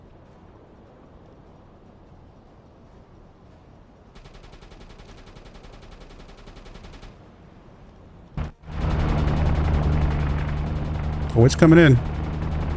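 Gunfire in the World War 2 submarine game UBOAT arrives as a sudden loud, sustained roar of shots and blasts after a quieter stretch, with someone talking over it.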